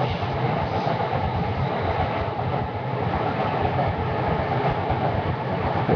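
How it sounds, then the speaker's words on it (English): A train passes in Japan near a small shrine, a loud, steady rumble with rail clatter that holds for several seconds. It is close, fills the whole stretch, and no one talks over it. "Oh, there's the train!"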